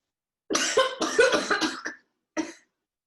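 A fit of close coughing, several harsh bursts in quick succession, then a pause and one more single cough.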